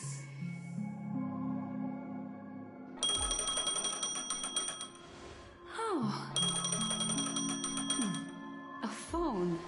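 A phone ringing in the Honkai Star Rail game, a repeating electronic ringtone of bright chiming tones and falling glides over a musical backdrop, with a short spoken exclamation.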